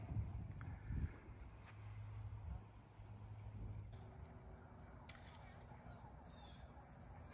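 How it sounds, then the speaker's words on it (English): Crickets chirping on a summer evening at a Cape Cod cemetery, a steady high pulsing trill that grows clearer in the second half over low ambient rumble. "Crickets."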